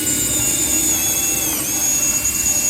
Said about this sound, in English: I drill a tiny little hole in the bottom board just below the box